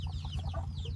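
Farm chickens being fed cluck in quick, close bursts over a constant low rumbling hum for a brief moment.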